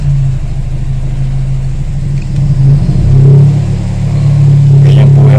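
A close Toyota Corolla GLi engine with a high-idle fault idles with a steady hum, then its revs climb to a higher, steadier pitch; a voice speaks faintly underneath.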